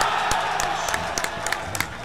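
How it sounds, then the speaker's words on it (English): Crowd at a fighting game tournament for Ultimate Mortal Kombat 3, cheering, whooping and clapping loudly and continuously, with sharp claps standing out through the roar. "The crowd is going wild."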